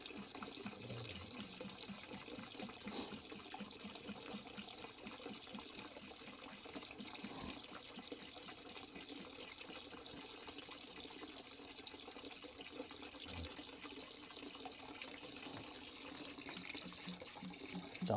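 RV antifreeze pours into a bucket during camper winterization, making a steady, faint liquid splashing and trickling that runs without a break, with light clunks now and then.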